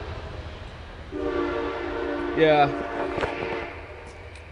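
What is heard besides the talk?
passing train with horn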